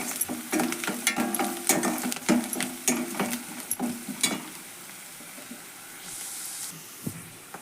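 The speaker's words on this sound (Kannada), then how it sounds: "ಒಂದು ಸ್ವಲ್ಪ ಅರಿಶಿಣ ಪುಡಿ ಹಾಕೊಂಡು ಮಿಕ್ಸ್ ಮಾಡೋಣ್ರಿ ಇದು." Turmeric powder is stirred into hot frying oil for a North Karnataka avarekalu palya. A spoon scrapes and taps rapidly over a soft sizzle, then the stirring eases and the quieter frying continues alone.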